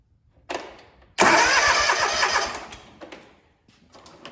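A lawn tractor's engine cranks in a short burst, then catches and runs loudly for about a second and a half before tapering off, with brief sputtering bursts afterward; close and loud.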